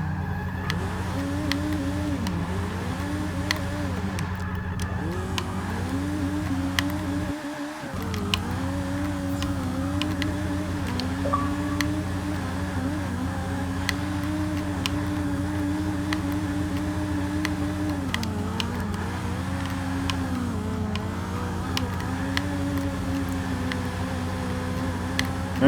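A 2003 Toyota Celica drift build in Forza 6 roars continuously, its engine revving up and down in repeated swells as it drifts, with one brief drop in the drone partway through; no voices.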